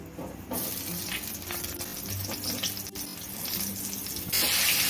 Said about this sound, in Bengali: মশলাগুলো ভাজা হয়ে গেছে, এবার এর মধ্যে ঝিঙেগুলো দিয়ে দেবো।